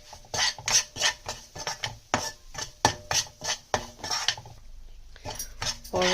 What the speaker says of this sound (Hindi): और अब हम सूजी को और भूनेंगे।